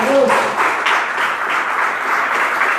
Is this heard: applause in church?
yes